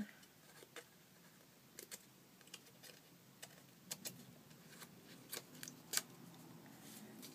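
Scissors cut paper into a banner for a mixed media art journal, giving quiet, sparse snips and crisp clicks spaced irregularly in a calm room.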